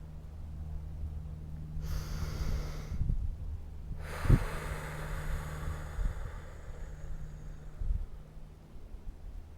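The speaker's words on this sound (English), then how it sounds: "Let's take another breath." Two deep breaths during a guided meditation, a drawn-in inhale and then a longer, fuller airy exhale that fades slowly, close up over a low steady background hum.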